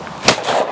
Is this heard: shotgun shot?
yes